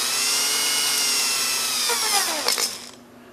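Old engine cylinder hone spinning in a drill, a high whining whir that winds down in pitch and stops after about three seconds.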